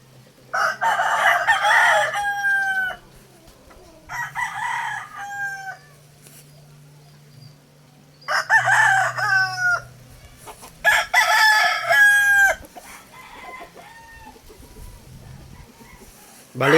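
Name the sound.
chickens and roosters crowing and clucking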